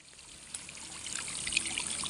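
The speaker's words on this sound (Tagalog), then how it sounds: "yung tubig ay aagos. Yan, sa mga ginawa nating butas." Irrigation water trickling into holes dug for vegetables, a soft, close gurgle with small splashes that grows gradually louder, no talk over it.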